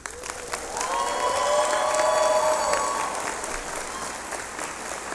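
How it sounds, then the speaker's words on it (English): An audience at a law school hooding ceremony applauds and cheers as staff stand to be recognized, with sustained loud clapping, scattered whoops and a few held voices over the crowd. "please join me in giving them a round of applause."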